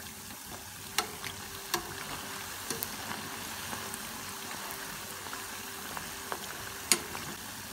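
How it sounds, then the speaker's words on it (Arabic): Awameh dough balls frying in hot vegetable oil, a steady soft sizzle and bubbling with a few sharp pops and spits scattered throughout, close and fairly quiet with no voices. "بعيدها بالزيت النباتي الملعقة بهيدا الشكل العجينة وبحطها بالزيت الحامي"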